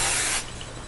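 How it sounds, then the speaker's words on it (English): Hairspray hisses from an aerosol can onto a section of semi-thin wavy hair in a single loud, steady burst that cuts off partway through, leaving a quiet room. "spray it with your hairspray"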